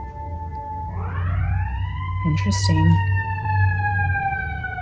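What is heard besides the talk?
fire truck siren passing nearby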